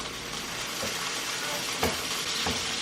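A Cubano sandwich sizzles and crackles steadily on a hot surface, with a few soft thumps as it is pressed down.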